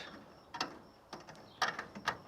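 A hand tool works on a steering box bolt of a 79-year-old vehicle, giving a few quiet, close ratcheting clicks and metallic turns in short bursts against a faint background.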